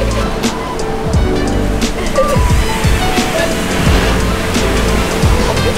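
Continuous rushing wash of sea waves at a beach, heard from inside a parked car, a broad steady roar with a few low thumps rising through it and no talk.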